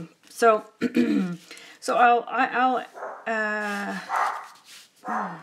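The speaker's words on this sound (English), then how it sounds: "Sorry about the dogs barking." Dogs bark repeatedly nearby in a loud, irregular run of yips and barks, with a brief spoken word in between.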